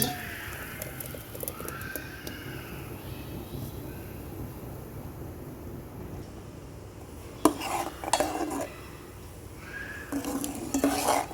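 Blended broccoli soup goes into a vessel with butter, heard as a soft pour followed by utensil stirring and scraping against the pot. A few sharper clanks rise near the end, and nobody talks.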